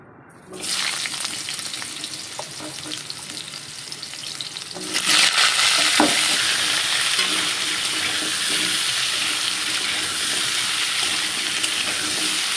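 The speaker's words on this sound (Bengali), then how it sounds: "জিরেটা আগে একটুখানি শুকনো কড়াইতে নেড়ে নিলাম" Cumin stirred in a dry wok, a steady dry frying rustle that rises and grows louder partway through, with a few light scrapes of stirring.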